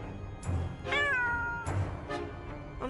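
A cat meows twice in the iOS/iPad adventure game Clarence: Thirty Days & Seven Seas: a short cry, then a longer drawn-out meow. Both are clear and close, with no voices over them.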